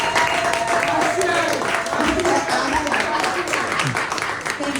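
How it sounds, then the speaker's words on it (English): Steady audience applause at a libation ceremony, a full wash of clapping hands lasting throughout, with voices and cheers rising over it. "Can we get a round of applause?"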